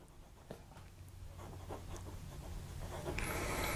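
An acrylic Lecai fountain pen with a smooth, firm steel-tipped nib scratches softly across paper in a run of light, close strokes, with a faint hum in the background and a brighter hiss at the end.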